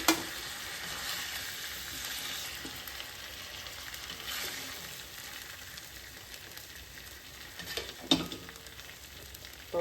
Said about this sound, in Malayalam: അപ്പോൾ നമ്മുടെ ചിക്കൻ ഒരു ഷാലോ ഫ്രൈ ആയിട്ടുണ്ട്.